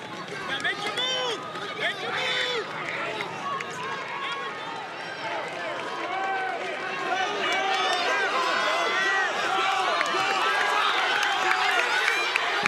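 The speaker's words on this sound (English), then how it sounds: "everybody's on the sideline, running side to side, cheering their teammates on" A crowd of spectators cheers and shouts continuously from the sidelines of a high school 4x4 relay race at the Suburban Blue Conference meet at Grandview. The dense, lively voices swell slightly toward the end.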